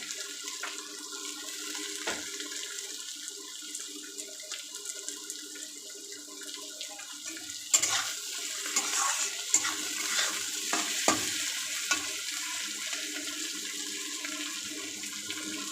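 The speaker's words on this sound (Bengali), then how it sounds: "এবার আমার উচ্ছেটা এইভাবে একটু ভাজা ভাজা হবে। দেখুন উচ্ছেটা হচ্ছে।" Sliced bitter gourd frying in a pan for a Bengali lote-fish dish gives a steady, soft sizzling hiss, broken by occasional clinks and scrapes of stirring, with no talking.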